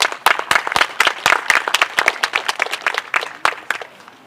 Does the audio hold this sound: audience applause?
yes